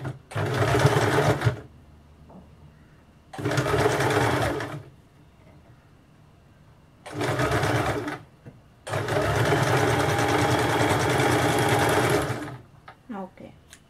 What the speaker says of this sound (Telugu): తాడు దగ్గర స్టిచ్ పడినప్పుడు మాత్రం ఒకసారి ముందుకి వెనక్కి స్టిచ్ లాక్ చేయండి, అంటే 2 టైమ్స్ వేయండి.